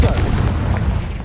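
A Confringo spell blast from Hogwarts Legacy lands as a short, heavy boom with a rumbling low burst that fills the whole brief moment.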